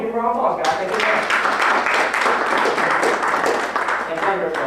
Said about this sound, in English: Give him a warm welcome and give him a round of applause